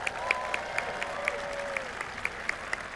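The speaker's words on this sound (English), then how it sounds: "One more rousing round of applause." Graduation commencement audience applauding, a steady crowd patter with regular sharp claps rising above it, moderately distant, as a voice speaks briefly over it.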